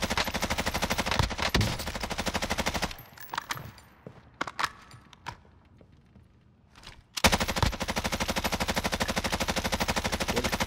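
Automatic weapon fire in Call of Duty Cold War Warzone at an airfield, loud rapid sustained bursts, a quieter gap of scattered single shots and clatter, then another long rapid burst, no talk.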